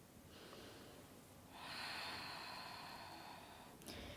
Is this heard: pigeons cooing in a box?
no